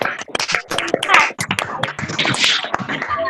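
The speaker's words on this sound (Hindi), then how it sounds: "हाँ हम लोग सब मिलकर ताली बजाते हैं" An audience in a hall claps hands together, with dense, irregular, fairly close claps and some murmuring voices mixed in.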